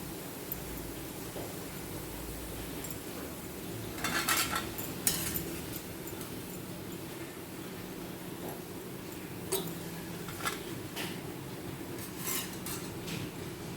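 Fried bitter gourd is scooped from a pan into a bowl, with scattered metallic clinks and scrapes of a utensil against cookware over a steady low hiss.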